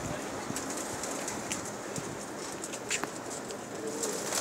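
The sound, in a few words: pigeons cooing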